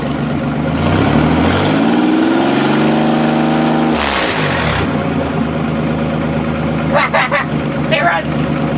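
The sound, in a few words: Nissan 300ZX Z31 engine running after first start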